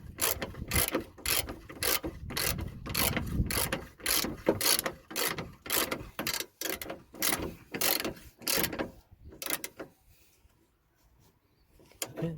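Ratchet wrench tightening a bolt during radiator replacement on a 2002–2009 Toyota Corolla: rapid repeated clicking strokes, close and loud, in quick rhythmic bursts that slow and fade into quiet near the end.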